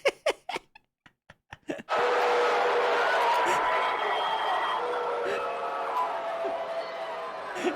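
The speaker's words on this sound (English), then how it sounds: "It's just everyone booing him at the first Go Fest." A large crowd at the first Pokémon GO Fest live event boos the Niantic CEO, a sustained loud roar of many voices that follows a few seconds of sparse sharp sounds.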